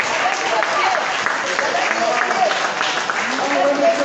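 Applause from striking Sogatra transport workers at a meeting in Gabon over unpaid wages, continuous crowd clapping with voices mixed in beneath it.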